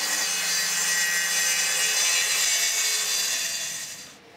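Steady sawing through a wall cabinet being cut to size to clear an extractor hood duct, a continuous close rasping stroke that fades out at the end, with no talk.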